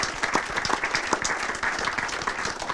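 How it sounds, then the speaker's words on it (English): Brisk applause from a crowd at a golden jubilee celebration, a lively, even patter of many hands clapping without pause throughout. "Let's give you a big round of applause."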